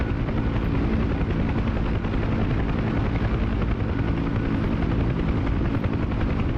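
A steady, loud whine and rotor drone of a UH-1 Huey helicopter running at full throttle inside the DCS flight simulator, continuous and unbroken with no speech.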